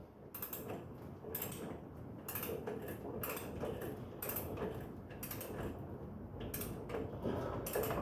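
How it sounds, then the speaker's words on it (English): Torque wrench ratcheting on the primary chain of a Matchless Model X motorcycle, a quiet series of repeated clicking bursts at an irregular rhythm, fairly close, with no talk. "I've got the torque wrench set up to 30 foot-pounds"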